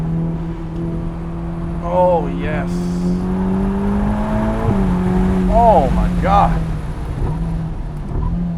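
A Ferrari sports car revs and accelerates around town, the engine note rising in two surges with a sharp shift between them, close and loud, while a driver exclaims excitedly over it.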